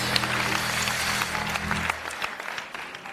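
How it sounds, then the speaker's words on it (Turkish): Studio audience applause on a Turkish TV talk show, steady dense clapping that carries for about two seconds and then thins out, with a low hum under it. "Sahiden bir alkış daha ya."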